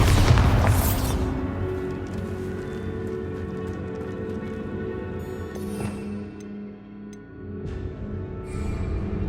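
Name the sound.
Bombarda blasting spell explosion, Hogwarts Legacy video game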